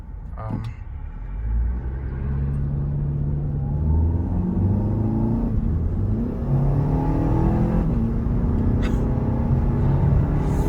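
An Audi A3 with a swapped-in S3 engine drives and accelerates from inside the car, its deep rumbling engine note climbing in pitch through the revs over steady road noise.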